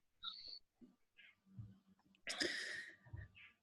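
A single sharp sneeze bursts out close by after a few soft breaths and small mouth clicks, then fades into quiet.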